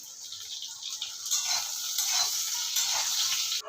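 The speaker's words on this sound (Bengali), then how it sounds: "ওই মাছের তেলেতেই আলু বেগুন সবই আমি ভেজে নিচ্ছি" A soft, steady sizzle of potato and eggplant frying in fish oil, with faint stirring sounds, fairly quiet and close.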